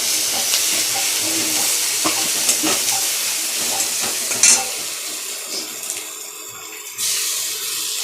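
Ginger-garlic paste, onion and tomato fry loudly in a pan for chicken kosha, giving a close, constant sizzling hiss with occasional stirring knocks and scrapes, and no talking.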